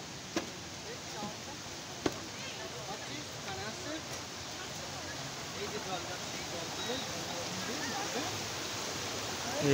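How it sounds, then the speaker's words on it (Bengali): A hillside waterfall at Ajodhya hills, Purulia, gives a continuous soft rushing hiss in the distance, low and steady throughout, with a couple of faint knocks early on. "অবশ্যই ঝর্ণার আওয়াজ পাচ্ছি সামনে"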